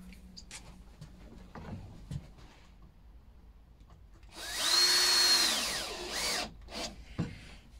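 A power drill driving into pieces of wood to fix them together gives a short, loud whirring burst that rises and then winds down, between quieter handling knocks and taps.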